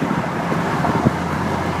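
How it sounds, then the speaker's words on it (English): A 1998 Chevy Corvette Pace Car engine hums low and steady at around 1200 rpm just after a downshift into fourth gear, heard from inside the cabin as a continuous, moderately loud drone. "He just downshifted into, I believe it's 4th."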